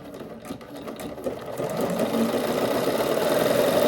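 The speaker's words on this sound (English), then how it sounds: "we're just going to do a zigzag stitch" A sewing machine runs a zigzag stitch, starting with a few uneven bursts before settling into a steady, rapid mechanical whir that grows a little louder, close by and alone.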